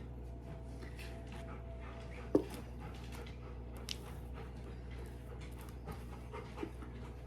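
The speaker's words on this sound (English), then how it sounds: "Excuse my dog in the background, panting terribly right now." A dog pants steadily and heavily in the background of a kitchen while a pie filling is being poured into a crust; the breathing runs continuously and fairly quietly, with one brief louder clatter partway through.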